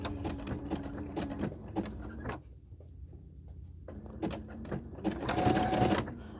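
Sewing machine stitching binding onto a quilt, a close, rapid mechanical run that pauses briefly mid-way, then resumes and grows louder, with no speech.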